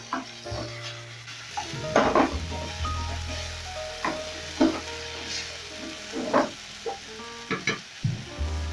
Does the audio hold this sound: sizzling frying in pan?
yes